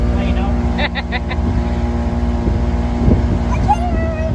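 Motorboat engine droning steadily with constant wind rumble while riding on the water, loud and close throughout, with voices talking over it.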